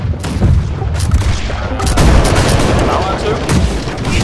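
Cannon fire in the naval battle game Blackwake comes as loud, close booms and rumbling blasts in quick succession, layered with battle noise while players talk over it.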